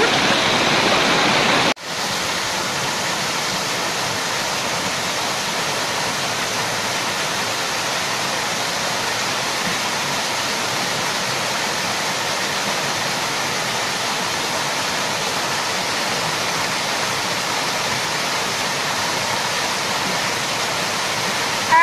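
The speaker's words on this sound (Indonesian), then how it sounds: "Ini air terjunnya kecil, lumayan" A small natural waterfall with clear, cold water pours in a steady, full rush that fills the scene loudly and evenly, with one brief dip near the start and no voices.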